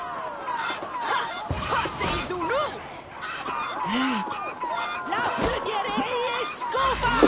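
Game chickens from Assassin's Creed Valhalla cluck and squawk in a busy Viking settlement, with repeated short honking calls layered over constant battle and crowd noise and some voices throughout.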